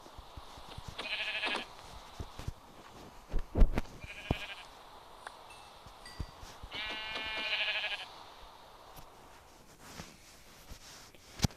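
Synthetic sheep bleats from a video game repeat a few times, short wavering calls separated by pauses, with soft clicks and thumps around them.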